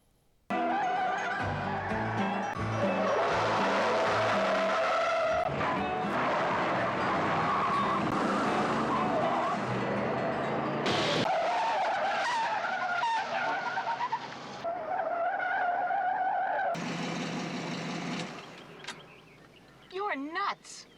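Cars in a chase from The Rockford Files roar and skid with screeching tires, engines loud and continuous, with brief voices and music-like tones mixed in.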